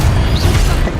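Confringo blasting spell exploding in Hogwarts Legacy, a loud dense burst of crackling noise with a low rumble filling the whole moment.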